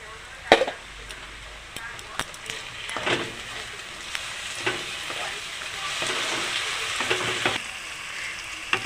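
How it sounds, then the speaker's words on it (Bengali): Ginger garlic paste and onions sizzle steadily in a pan, with the scrape and knock of a stirring spoon breaking in now and then, close and fairly loud. "আদা রসুন বাটাটাও একসাথে ভেজে নিয়েছি"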